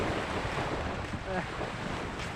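Sea waves wash continuously onto a beach shore in a steady broadband roar, close and fairly loud, with a faint voice briefly audible underneath.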